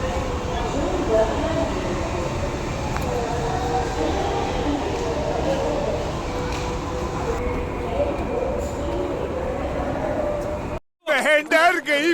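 Loud, continuous rumble and whine of a metro train in a Nagpur station, with echoing crowd noise and voices throughout, cut by a brief gap near the end.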